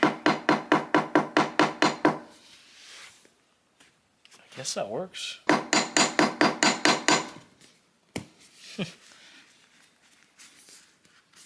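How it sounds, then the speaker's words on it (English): Quick, evenly spaced hammer taps on a 1967 Chevrolet Impala car seat come in two rapid bursts of a dozen or so strikes, with a brief spoken remark and a few scattered knocks between. "a few taps of the hammer."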